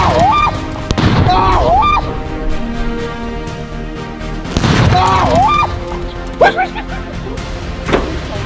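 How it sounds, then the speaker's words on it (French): A car blown up with TNT sets off heavy booming blasts, several deep bursts spaced across the scene with crackling debris, amid shouting voices. "l'explosion de la voiture?"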